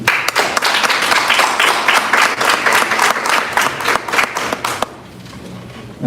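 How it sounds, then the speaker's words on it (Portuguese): An audience at an oceans conference panel on traditional peoples bursts into loud sustained applause to welcome a Pataxó speaker, dense clapping for about five seconds before it fades into room noise. "Recebam uma salva de palmas,"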